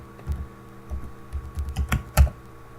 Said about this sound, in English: Please make sure to type the right password